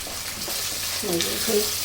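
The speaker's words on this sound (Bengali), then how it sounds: "পেঁয়াজ মানে আদা রসুনটা আমি একটু 2 মিনিটের মতন ভেজে নিব" Ginger and garlic frying in a pan give a continuous soft sizzle close by, while a voice speaks briefly over it near the end.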